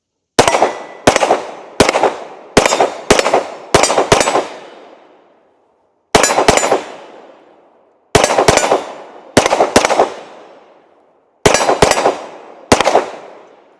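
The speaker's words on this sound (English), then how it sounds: "Let's go ahead and shoot a little bit more around the house." Rapid pistol gunfire from a handgun fitted with a Radian Ramjet compensator, loud sharp reports in quick strings of two to five shots separated by brief pauses, each crack trailing off with outdoor echo, no talking.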